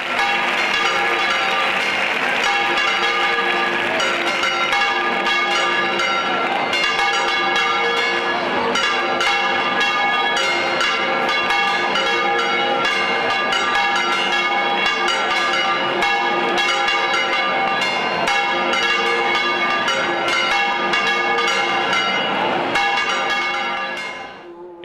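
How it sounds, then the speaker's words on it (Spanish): Bells of a hermitage belfry ringing continuously during the Rocío pilgrimage, a dense, loud clangor of overlapping metallic strikes that carries on steadily before fading at the end. "Solo se escuchan las campanas de la espadaña de esta ermita"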